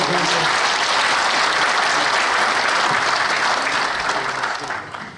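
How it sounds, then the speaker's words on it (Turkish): Loud, steady applause fills a hall during a business and export speech event in Çorum, Turkey, holding dense and constant before tapering off at the end. "Kendi kendisi alkışlayın"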